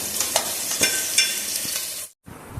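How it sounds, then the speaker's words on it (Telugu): Onions stirred in hot oil while frying for chukka kura chicken curry, a steady close sizzle broken by several scraping stirs before a brief silence, then the sizzle resumes. "ఆయిల్లో వేసిన ఉల్లిపాయలను కలిపి ఉల్లిపాయలను వేగనివ్వాలి."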